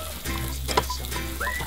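Vegetables are stir-fried in a wok while camping, giving a constant close sizzle with a quick clatter partway through as the wok is tossed; no one speaks.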